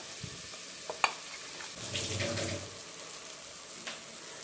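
Spice paste for fish thoran frying in a pan, a soft steady sizzle that swells loudest midway with a few clicks of stirring, no voices.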